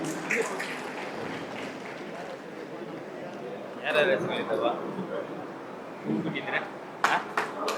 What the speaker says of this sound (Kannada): ಜೋರಾಗಿ ಚಪ್ಪಾಳೆ ಹೊಡಿಬೇಕಾಗಿ ನಾನು.